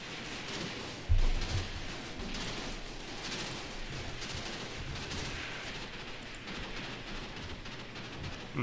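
Dense, continuous rattling gunfire in the game Graviteam Tactics with a heavier thump early on, sustained and fairly distant-sounding, with no talking.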